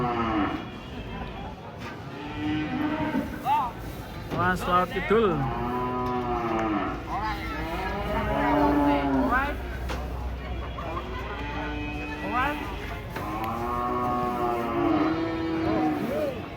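Several loud, drawn-out moos from a large white cow being unloaded from a truck repeat close by, with people talking in the background between and under the calls.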